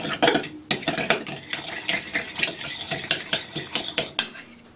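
A spoon stirs and scrapes homemade coleslaw around a bowl, close and busy with rhythmic clinks and knocks of cutlery against the dish, no talking.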